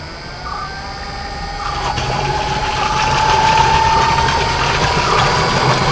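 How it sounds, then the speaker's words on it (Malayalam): 72V BLDC self-priming water pump motor powered from an SMPS, a steady whine with tonal lines that builds gradually in loudness as the motor spins up, running alone. "ഇപ്പോൾ SMPS കണക്ട് ചെയ്തിട്ടുണ്ട്, മോട്ടോർ ഓൺ ആക്കുവാണ്"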